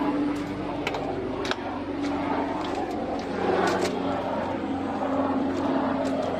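A fixed-wing airplane passes overhead on a hillside hiking trail, its steady propeller drone running continuously at moderate loudness while faint clicks and rustles sit beneath it.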